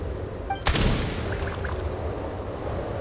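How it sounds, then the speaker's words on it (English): A single gunshot in a video game gives a sharp bang close by, followed by a short rumbling tail. It sits over a steady background of game ambience. "There's the gunshot."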